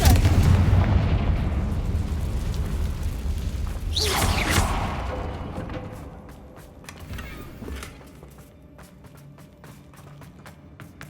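A Confringo fire spell in the Hogwarts Legacy video game erupts in a loud, rumbling blast with a sharp whoosh, then fades into scattered crackles and pops.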